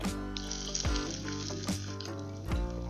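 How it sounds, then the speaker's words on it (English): Garlic and onions frying in a pan for bison stew, a steady close sizzle running throughout with a few soft stirring scrapes and clinks. "we're going to fry those up until they get nice and caramelized"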